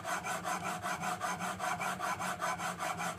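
A coffin smoother plane iron is ground on its micro bevel, its poor steel rasping in a steady back-and-forth rhythm of about a dozen even strokes, close and fairly quiet.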